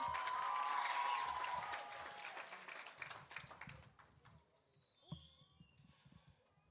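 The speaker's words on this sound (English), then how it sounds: "Give her one more round of applause" Audience applause at a graduation ceremony in a hall, loud and dense at first, then thinning out over a few seconds into scattered claps and a quiet room.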